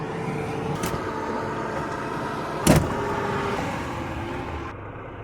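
A truck draws up close behind a parked camper van, its engine a steady broadband rumble throughout, with a brief sharp thump near the middle.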